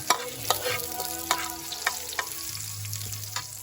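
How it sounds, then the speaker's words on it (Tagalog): Onions sauté in a hot pan under a steady sizzle, with repeated close scrapes and clinks of a spatula stirring them, and no talking. "next natin ilalagay ay ang ating sibuyas."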